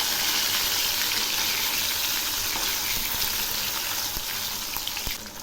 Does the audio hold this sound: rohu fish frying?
yes